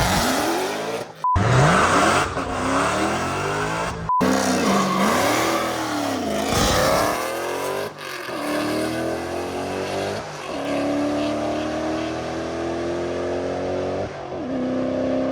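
A manual-transmission Dodge Demon launches with its wheels spinning, the engine roaring loud and close as revs surge, drop and climb again through repeated sweeps, with no talking.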